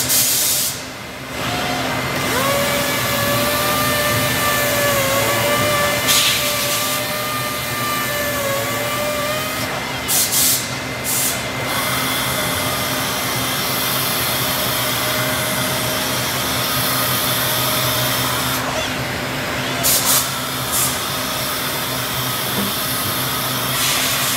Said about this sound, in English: Now we've moved on to sanding sealer on cherry doors.